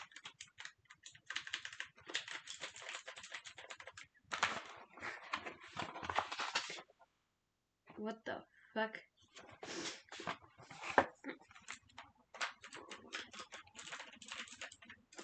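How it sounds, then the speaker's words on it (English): A new computer keyboard clatters with fast, close keystroke bursts that stop for about a second midway and then resume, while a voice exclaims once amid the typing. "I have a keyboard right here. It's really comfortable,"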